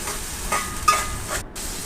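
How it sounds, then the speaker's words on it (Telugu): Onions and dried red chillies fry in a pan for tomato rice, giving a close, continuous sizzle and hiss with a few soft stirring scrapes over two seconds. "ఆనియన్స్ వేసుకుని బాగా వేపుకోవాలి."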